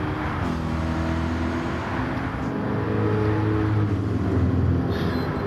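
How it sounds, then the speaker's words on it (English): A race car engine in the video game Gran Turismo 7 drones loudly and continuously, its pitch shifting slightly as it revs, with no voices over it. "Listen to that car"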